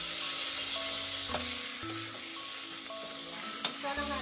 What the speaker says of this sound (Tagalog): hayaan na lang muna natin siya dyan na mag-brown yung both sides ng ating beef